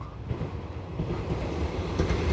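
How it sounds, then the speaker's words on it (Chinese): The Puyuma Tze-Chiang express, train 411 on Taiwan's North-link line bound for Shulin, passes nearby. It makes a heavy, continuous rumble with rhythmic wheel clatter that builds gradually louder, and no one speaks. "来来来，有火车准备通过。"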